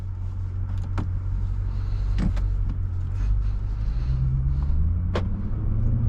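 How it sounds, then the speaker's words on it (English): A 2023 Jaguar F-Pace SVR engine rumbles steadily at a low pitch during a drive, rising slightly toward the end, with a few faint clicks and knocks over the drone. "This car sounds absolutely insane."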